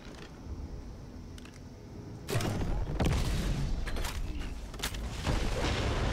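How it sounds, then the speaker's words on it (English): Loud booming blasts from the video game Borderlands 3 burst in around two seconds in and keep rumbling and crackling, with several sharp explosive hits layered over dense ongoing noise. "Explosion echoed through the forest"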